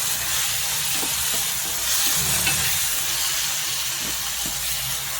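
Eggplant mixture for tortang talong being stirred in a pan, a steady scraping swish over a continuous sizzling hiss, close and moderately loud with no talk.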